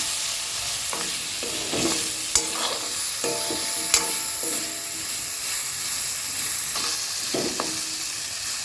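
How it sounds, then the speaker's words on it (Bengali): A pan of amla fries with salt and turmeric: a constant gentle sizzle runs throughout, while a utensil scrapes and taps against the pan in irregular bursts of stirring. "আমি কিছুক্ষণ ভাজা ভাজা করে দিই"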